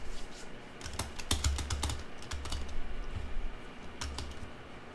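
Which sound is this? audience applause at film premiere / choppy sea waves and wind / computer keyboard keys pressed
computer keyboard keys pressed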